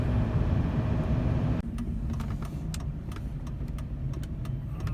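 A stock LLY Duramax diesel pickup truck drives with a steady low engine and road rumble, easing slightly partway through, with light rattles and clicks over it.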